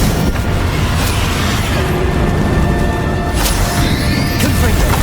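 A Bombardo blast spell going off in Hogwarts Legacy on PS5, a loud, dense booming explosion with crashing debris, followed by a couple of sharper bursts, filling the whole moment with no voices.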